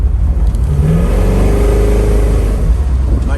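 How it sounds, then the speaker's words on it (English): A 1964 Chevrolet Chevelle engine revs hard while laying rubber, a loud, steady mid-pitched roar that rises and sweeps upward across the whole span, close by with no talk over it. "He wants to lay down more rubber."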